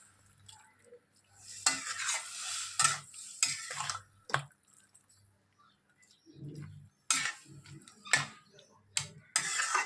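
A spoon scrapes and clinks in a pan while split pea dal is stirred together with bottle gourd greens, in short, separated bursts with quiet gaps between them.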